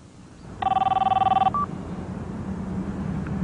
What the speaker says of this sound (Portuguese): Sarah, me dá uma linha de segurança